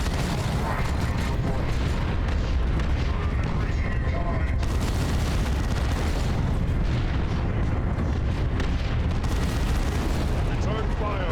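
Heavy gunfire and booming artillery explosions from Warhammer 40,000: Dawn of War 2 rumble continuously at high volume, with dense battle noise and larger blasts swelling around the middle and near the end.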